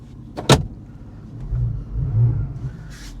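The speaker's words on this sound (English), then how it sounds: "I just love the sound of this car." A Porsche 911 Carrera S 991 coupe's engine gives a low, moderate rumble that swells twice in brief revs after a sharp click or thump, heard from close by.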